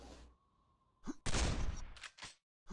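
Gunfire from a shotgun in a fast arena shooter video game, with a sudden loud blast followed by a dense burst of shots and a short sharp report near the end, after a quiet stretch.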